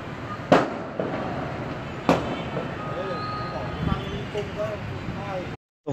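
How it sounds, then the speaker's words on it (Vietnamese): Explosions go off during a large house fire in Hanoi, two sharp loud bangs a couple of seconds apart, with people talking in the background throughout. "Ủa, cái nhà nó nổ cái gì mà nổ kinh thế nhỉ?"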